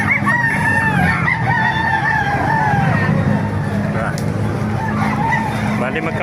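A rooster crows loudly and repeatedly at a market in Baliuag, Philippines, over a steady engine-like rumble and background voices.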